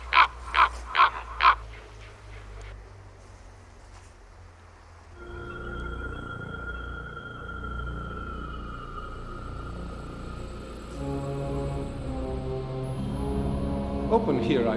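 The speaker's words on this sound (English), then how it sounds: "in there stepped a stately raven of the saintly days of yore" Raven caws four times in quick succession, loud and close, at the outset, followed by a long low droning ambience with faint tones and no further calls.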